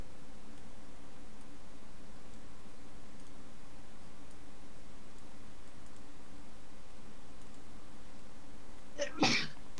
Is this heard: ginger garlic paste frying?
no